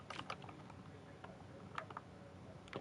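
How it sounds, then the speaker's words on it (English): PlayStation controller buttons pressed rapidly during a Minecraft-style speedrun, faint quick clicks in short bursts under low background noise. "I'm like spamming buttons on my controller to get this done."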